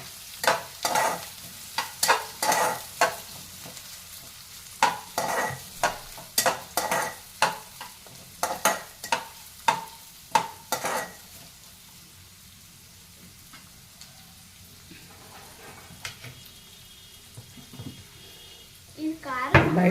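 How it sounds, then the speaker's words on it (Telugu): Onions and green chillies frying in a pan are stirred with a spoon, giving a run of close, sharp scraping strokes over a steady sizzle; the stirring stops midway, leaving soft frying until a few clatters near the end. "నెక్స్ట్ ఇప్పుడు కలుపుకోవాలి."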